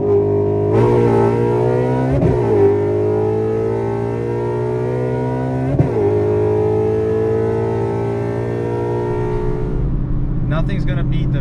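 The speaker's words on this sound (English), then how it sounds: "Nothing's gonna beat the V8 sound." 2024 Ford S650 Mustang V8 rumbling steadily at close range with a couple of brief throttle blips, while people talk over the engine.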